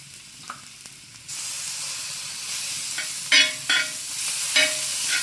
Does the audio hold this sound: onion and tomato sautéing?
yes